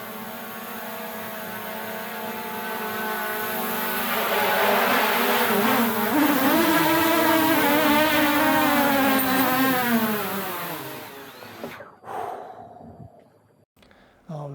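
A drone's propellers buzz loudly and close during a balcony landing, a dense whining drone whose pitch wavers and climbs before cutting out abruptly near the end, leaving brief scattered knocks.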